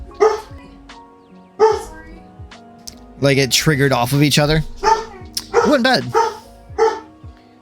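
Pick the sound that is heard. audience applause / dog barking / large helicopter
dog barking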